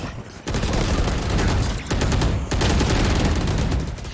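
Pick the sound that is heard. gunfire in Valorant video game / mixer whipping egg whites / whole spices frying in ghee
gunfire in Valorant video game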